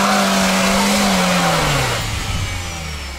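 A Ford Ranger's engine revs hard at high RPM, a loud, sustained roar that holds steady, then falls in pitch and eases off toward the end.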